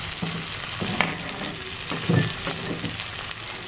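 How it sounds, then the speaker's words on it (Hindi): Chopped onions frying in oil on a tawa for dhaba-style keema, a continuous close sizzle with intermittent stirring scrapes and small clatters, no voices. "प्याजों को थोड़ा ऑयल में भूनने देते हैं।"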